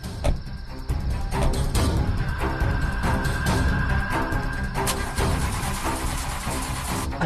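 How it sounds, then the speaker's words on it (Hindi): A car's engine is cranked repeatedly by the key but does not catch, giving a continuous, loud, rattling whir that carries on for several seconds with a few sharp clicks along the way. "गाड़ी चालू नहीं हो रही।"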